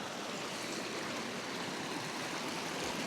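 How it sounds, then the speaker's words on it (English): River water flowing over rocks near Ruskebe Waterfalls at Londiani, Kericho County, Kenya, makes a steady, broad rushing hiss with no pauses, close by, and no voices over it. "I'm in the river now."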